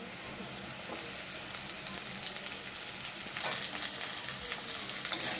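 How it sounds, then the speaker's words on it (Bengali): Potatoes and onions sizzle and crackle steadily in hot oil, a continuous bright hiss with occasional stirring scrapes, close up and fairly quiet. "আলুগুলো আমার লাল লাল করে ভাজা হয়ে গেছে এবার এর মধ্যে আমি দিয়ে দেবো একদম কুচনো পেঁয়াজ"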